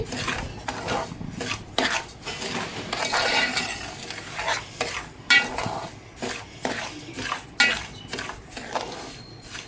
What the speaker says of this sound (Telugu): చూడండి, ఇలా దోరగా వేయించుకోవాలి.